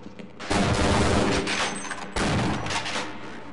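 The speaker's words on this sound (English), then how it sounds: "Grenade." A grenade blast in the video game Half-Life: Decay sets off a loud, sustained roar of explosive noise, with a second heavy burst about two seconds later amid continuing gunfire-like clatter.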